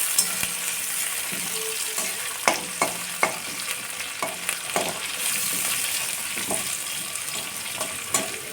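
Chopped green chili stirred and fried in a pan for potato egg curry, a soft sizzle under repeated spatula scrapes and clacks against the pan, irregular strokes about every half second, close.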